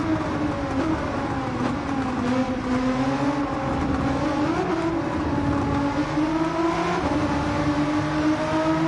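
A Nissan R35 GT-R races in Gran Turismo 7, its engine a loud, continuous drone that holds a sustained pitch, dips and climbs again as it shifts through gears.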